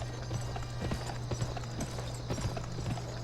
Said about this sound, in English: let's get this horse out of the way because he's got one there for us